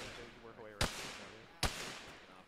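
Two sharp, booming blasts go off a moment apart in an Arma (ShackTac) battle, each loud and close with a brief rumbling tail, while a voice murmurs faintly beneath.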